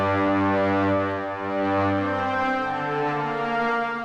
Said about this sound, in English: We're getting this nice raspy string sound, like you're bowing a string almost.